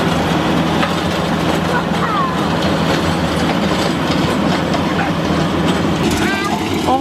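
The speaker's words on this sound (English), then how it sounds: "Daddy's gonna till the land" A garden tiller works the soil at close range, a loud, continuous mechanical churning and rattling that stays steady throughout, with faint squeaky sounds over it.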